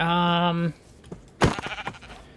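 A Minecraft sheep gives one loud, steady harmonic bleat lasting about three quarters of a second. After a pause, a burst of unrelated game noise follows.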